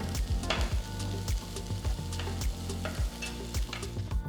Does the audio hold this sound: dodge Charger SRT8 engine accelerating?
no